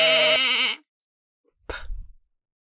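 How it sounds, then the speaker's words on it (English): A single sheep bleat, loud and close and wavering, in a children's farm-animal learning program. It is followed by a short soft thump, with no talking. "Sheep. Sheep."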